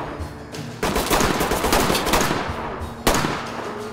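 Automatic gunfire in Ready or Not, a tactical shooter home invasion mission, with a dense sustained burst from about one second onward and a second sharp burst near the end, loud and close.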